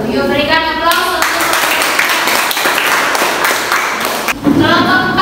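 A classroom audience claps for group 4 at an economics lesson, a dense burst of applause from many hands lasting several seconds, with voices talking before and after.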